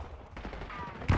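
Automatic gunfire in Black Ops 6 on the holiday Nuketown map, a short run of rapid shots that ends in a louder close burst, with faint game voice chatter underneath.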